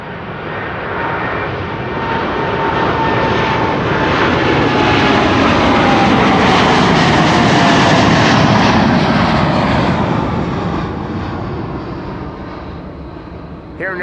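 A KLM Boeing 787-9 Dreamliner in SkyTeam livery, registration PH-BHF, passes close by at Amsterdam Schiphol with a loud, broad jet roar that swells to a peak midway and then slowly fades.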